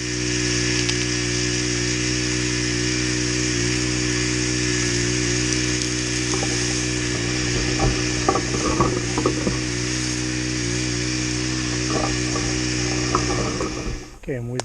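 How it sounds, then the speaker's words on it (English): A loud engine-driven capstan winch drones steadily with a clicking, ratcheting mechanical rhythm and occasional creaks and knocks as a felled tree is dragged. "let's get the winch going and get this thing dragged over"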